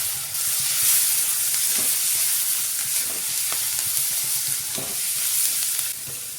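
Onion and garlic sautéing in a pan for a garlicky fenugreek dish, a steady loud sizzle with frequent stirring scrapes throughout, no talking.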